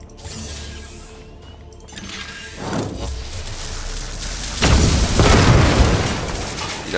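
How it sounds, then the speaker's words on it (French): Booming in-game explosions from Warhammer 40k: Chaos Gate - Daemonhunters roll out in loud, broad bursts, building from a mechanical clatter into a heavy, sustained blast near the end. "Il a pris les explosions."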